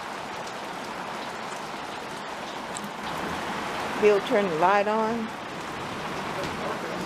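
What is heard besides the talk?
rain falling on a desert porch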